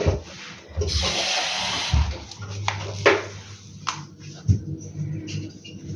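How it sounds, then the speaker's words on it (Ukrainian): Water is poured from close by onto a freshly planted hydrangea cutting in a pot without drainage holes, a splashing gush in the first second followed by soft trickles and small handling bumps. "добряче пролью водичку."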